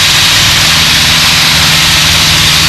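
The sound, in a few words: Piper Cub light airplane engine in flight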